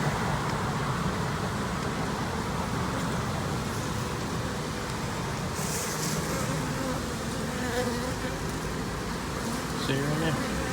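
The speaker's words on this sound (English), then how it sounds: "these are the cell tower bees, folks." Swarm of honey bees on a cellphone tower on a rainy day, a loud, dense, continuous buzzing close by, with faint traffic noise and occasional human voices underneath.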